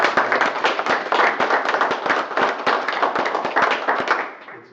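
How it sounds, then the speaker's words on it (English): Council meeting attendees in Universal City, Texas applaud in a room, a close, fairly small group of sharp individual claps rolling steadily for several seconds before stopping abruptly. "How about a round of applause for him right now?"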